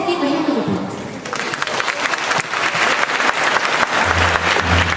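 An audience claps for a primary school piano ensemble about to play a recital piece. Scattered claps swell after the first second into sustained applause from a crowd, and a low tone comes in near the end.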